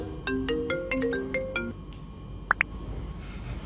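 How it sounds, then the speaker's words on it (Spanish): A phone ringtone plays a quick melodic tune of short bright notes, fairly close and clear, then stops, followed by two brief clicks and quiet room noise. "Rubén, contestame ese teléfono y ponelo en altavoz."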